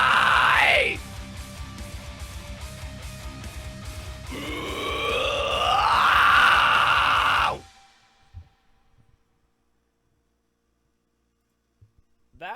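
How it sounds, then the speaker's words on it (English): Raw, strained vocal screams belted over a loud heavy music track, sustained and harsh for several seconds before the music cuts off abruptly into near silence with a few faint knocks. "That is raw vocal screams over a track."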